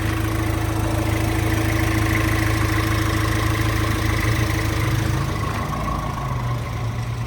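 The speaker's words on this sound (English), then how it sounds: "'23 Mercedes Sprinter" A 2023 Mercedes Sprinter 170 extended high-roof diesel van idles with a steady, loud, close low drone and faint mechanical clatter, its tone shifting slightly near the end, with no talk.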